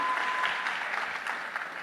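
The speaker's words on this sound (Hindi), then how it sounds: "ताली होनी चाहिए यार" Audience applause at a motivational speech event in Udaipur, steady continuous clapping from many hands that holds at an even level throughout.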